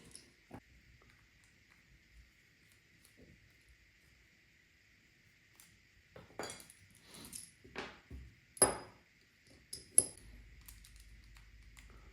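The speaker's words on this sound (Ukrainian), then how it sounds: "Знімаємо підторможувач ротора. і починаємо розбирати сам корпус." Small metallic clicks, taps and light clinks from parts of a Shimano Complex Ci4+ spinning reel body being taken apart, quiet at first and then a denser cluster of close, sharp ticks toward the end.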